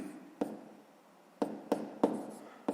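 Hand writing of numbers on paper while solving a sixth-grade math exercise, with a few short, quiet pen taps and strokes, close and sparse.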